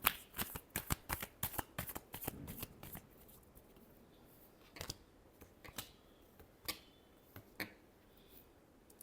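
Tarot cards are shuffled close by with a rapid run of crisp riffling clicks at the start, then scattered single card snaps spaced out over the remaining seconds, fairly quiet and without talk.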